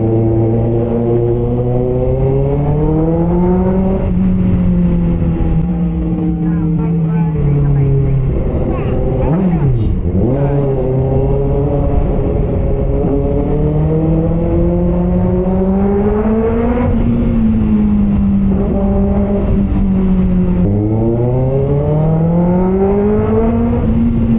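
Kawasaki ZX6R sport motorcycle with an open pipe revving loudly and continuously up close, engine pitch repeatedly climbing and dropping through several rev swells with no talk over it.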